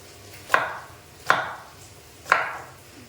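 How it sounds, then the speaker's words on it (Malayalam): Three separate knife chops cut ash gourd into small pieces on a board, each a sharp close thud spaced about a second apart, with a quiet background and no speech. "ഇനിയും നമുക്കിതെല്ലാം ചെറിയ ചെറിയ പീസസ് ആയിട്ട് കട്ട് ചെയ്തെടുക്കാം"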